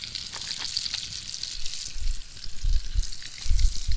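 Floured perch sizzles in a pan over a campfire, a steady crackling fry with bursts of hissing and low thumps as the fish settles into the hot oil, close by.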